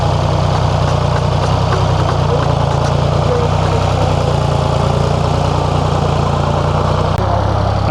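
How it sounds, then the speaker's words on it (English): A tractor engine runs steadily on a farm in central Portugal, a loud continuous idling drone with heavy low rumble, unchanging throughout, with a brief shift in pitch near the end. "And then of course there's Joaquim, who's an absolute master on the tractor as well"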